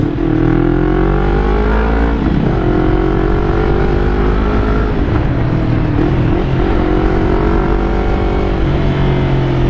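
A Yamaha YZF-R25 motorcycle with an aftermarket exhaust revs loudly and close with a deep, throaty note, climbing and dropping in pitch several times.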